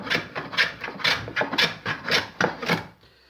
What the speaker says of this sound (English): You can use your rasp on the middle sections here, and on the horn area here, use your rasp here.